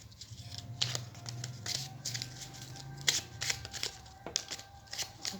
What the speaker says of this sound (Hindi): यहाँ पर कुछ कार्ड्स आप लोगों के लिए शफल होकर आ चुके हैं